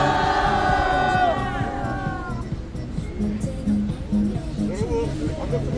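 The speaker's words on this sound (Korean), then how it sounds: "3초만의 함성으로 환영해 주시겠습니다" A crowd at a Korean civic gathering lets out a loud, sustained welcoming shout, voices blending into a roaring cheer that tapers after a couple of seconds into mixed crowd noise and scattered yells.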